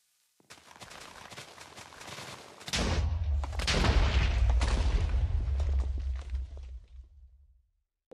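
A run of loud in-game explosions in Minecraft blowing everything up: a stretch of crackling gunfire-like pops, then a heavy booming blast that rumbles on for several seconds before fading out.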